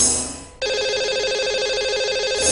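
A telephone call rings out to a caller on a broadcast phone-in show, a steady electronic ringback tone starting after a brief pause and continuing clearly and loudly to the end.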